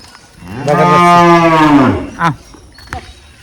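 A small cow gives one long, loud, close moo, rising and then falling, followed by a brief grunt and faint rustling.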